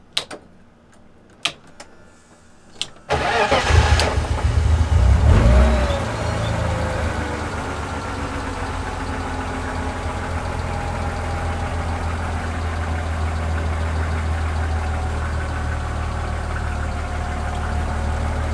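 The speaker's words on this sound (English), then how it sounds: "Idling just fine, starts like nothing." A 1999 BMW 323is E36 engine starts up after a few soft clicks, revs briefly, then settles into a steady, even idle that runs on close by.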